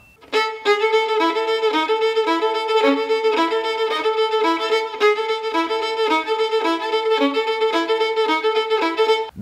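Violin playing an intro pattern for a Romanian folk lesson, with steady bowed phrases carrying strong accented strokes. The playing is loud and close and continues for the whole stretch with no talking.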